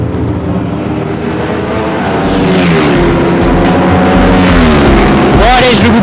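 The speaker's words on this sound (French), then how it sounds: "on est sur le circuit de Portimao au Portugal pour essayer la nouvelle Ducati Panigale" A Ducati Panigale 1299 S superbike rides on the Portimao circuit in Portugal, a steady engine drone building in loudness, heard as a continuous onboard roar with a voice talking over it.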